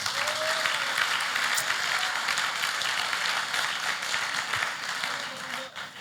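A church congregation applauds the Lord, a dense, continuous wash of many hands clapping at even loudness for several seconds before tapering slightly at the end.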